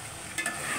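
A katla fish head muri ghonto is sautéed in a pan with a brief, steady sizzle and a quick scrape of stirring in the middle, close and moderately quiet.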